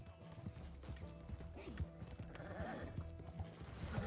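Horse hooves clip-clopping at a slow pace in the video game Red Dead Redemption 2, a steady rhythmic plodding under a continuous game ambience and background noise.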